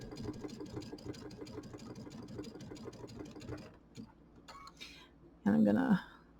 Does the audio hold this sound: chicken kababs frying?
no